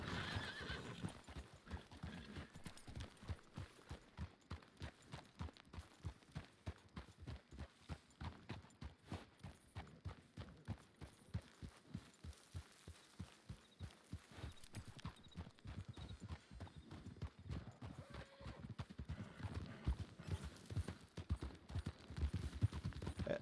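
A horse ridden through the open world of a Wild RP roleplay game session clip-clops in a steady rhythmic gait that speeds toward a canter. There are occasional neighs, and faint distant gunfire sounds in the background.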